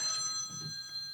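A mobile phone rings with steady high electronic tones during a panel discussion, heard faintly over low room murmur.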